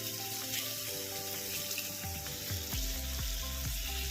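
Water is added to spices frying for a cauliflower and potato curry, producing a loud, continuous sizzle. Rhythmic stirring scrapes come through in the second half.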